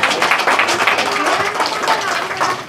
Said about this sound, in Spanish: Un aplauso a la gente normal.